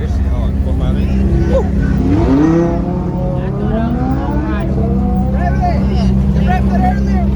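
Ferrari 458 engine revving at a car meet, a loud close-up wail that climbs in pitch and drops back several times over a steady idle, with people talking nearby.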